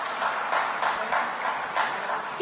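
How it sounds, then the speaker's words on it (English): An audience in a lecture hall claps for a performer; the applause is soft and fairly distant, a continuous patter of many hands with slight surges in intensity. "Could you give him another round of applause"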